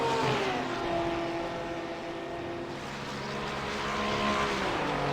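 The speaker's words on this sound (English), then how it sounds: "Max Gunther just at 1 second behind Dowling as they go into that sweeping right-hander" GT3 race cars, a Porsche and a BMW, sweep through a fast right-hand bend at Road America, with engines droning and shifting pitch in steady, sustained notes, moderately loud and close.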